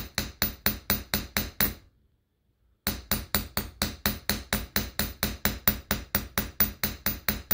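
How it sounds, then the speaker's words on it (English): A hammer taps lightly and steadily on a rotating coin while making a coin ring, producing a fast, even series of sharp metallic clinks up close, broken by one brief pause before the tapping resumes at the same rhythm. "start tapping very lightly and let the coin rotate"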